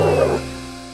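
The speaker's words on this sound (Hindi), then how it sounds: "उनका कुत्ता शेरू" A dog gives a single short bark or yip up close, followed by a fading tonal hum.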